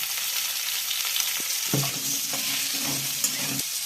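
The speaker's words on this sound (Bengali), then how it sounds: "এবার কড়াইয়ে আলুটা একটু ভেজে নেব।" Potatoes with salt and turmeric sizzle steadily in oil in a wok, with a few soft scraping and stirring knocks partway through; no one speaks.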